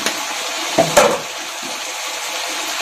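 Water splashes into a pan of cooking flat beans and potato, a brief pouring burst early on over a continuous bright, hissing cooking noise.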